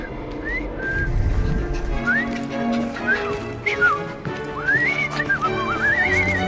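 Whistling in a cutscene from the video game Assassin's Creed Syndicate: several short rising and falling whistled phrases, clear and fairly close, over a busy background of ambient sound.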